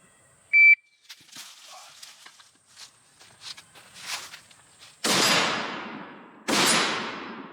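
A shot timer's short electronic beep starts a shooting course of fire, followed by shuffling movement and then two loud, sharp gunshots with long decaying echo outdoors.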